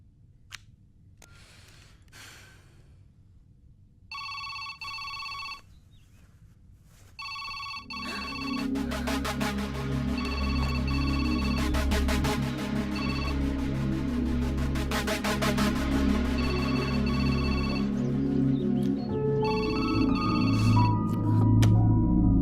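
A telephone rings in short repeated electronic bursts amid quiet background sound, then a loud sustained musical tone with steady rhythmic ringing takes over and fills the rest of the stretch.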